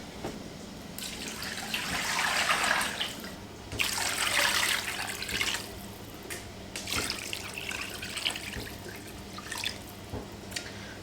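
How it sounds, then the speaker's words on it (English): Water splashes and gurgles into a large stock pot for bone broth of chicken and ham bones, coming in several pours separated by quieter dripping gaps, close by and with no talk. "so again about 6 litres of water in this pot"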